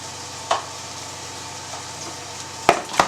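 Fresh onions and spicy Thai pepper fry in a pan for a lobster sauce, giving a steady close sizzle broken by a few sharp clacks of a utensil against the pan.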